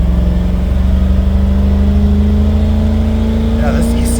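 A car with an EFI 460 engine hums under light throttle, a steady droning note holding close and loud, with faint road noise around it.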